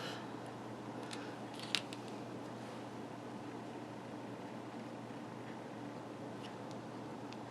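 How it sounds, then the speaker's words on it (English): Scissors make a single quick, close snip through a paper stem for a handmade card, with only faint room hiss before and after. "I might have to cut that stem off."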